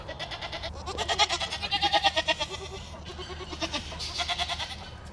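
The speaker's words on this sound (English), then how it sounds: "I just hear a bunch of goats yelling" A crowd of farm goats bleats together in overlapping, wavering calls, several loud bursts rising and falling through the clip with a busy chorus close by.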